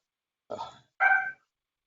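A dog gives two short barks about half a second apart, the second one sharper and louder, with silence around them.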